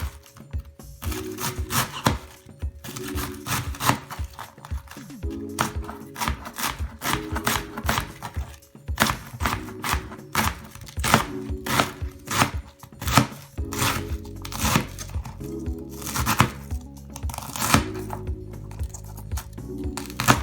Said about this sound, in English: So I'm going to shred it as thinly as you can.